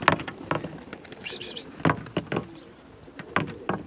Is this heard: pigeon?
yes